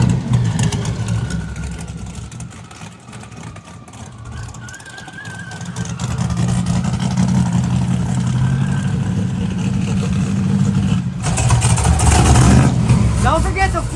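The Dale truck's engine roars at full throttle down a drag strip, a loud sustained rumble that builds steadily and surges near the end, with voices talking over it.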